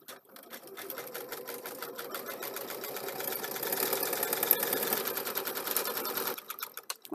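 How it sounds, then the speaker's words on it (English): A home embroidery machine stitches steadily for several seconds, a rapid even needle rhythm running continuously at close range, with no talk over it. "My first embroidery machine, Steve, his dad and his sister bought for"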